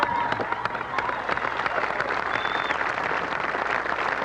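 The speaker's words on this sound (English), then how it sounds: "to have the cheer and applause from all the fans" Steady applause and cheering from a golf crowd around the 18th green, a dense, continuous wash of clapping that holds at an even level throughout.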